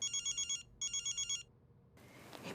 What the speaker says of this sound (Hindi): बिन्नू को फोन आया ना, क्या करे?